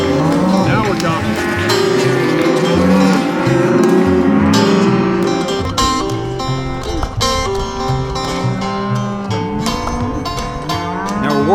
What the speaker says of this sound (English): At the same time as we're treating the cows, we have to get the bulls out of the herd, and the bulls are really getting upset